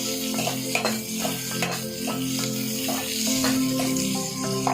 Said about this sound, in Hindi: जरा चम्मच हिलाते हुए हम इसको थोड़ा सा सॉटे करेंगे